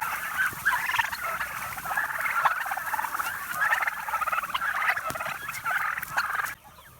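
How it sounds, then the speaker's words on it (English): Hungry farm turkeys gobbling repeatedly in a flock, a run of rapid warbling calls at moderate distance that stops abruptly near the end. "Hungry birds, they've started doing their gobble."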